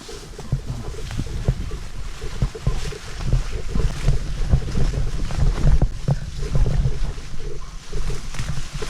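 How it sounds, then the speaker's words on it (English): Gusty night wind at an off-road campsite buffets the microphone in a steady, rumbling roar with rustling and flapping underneath, continuous throughout. "Pretty windy tonight too."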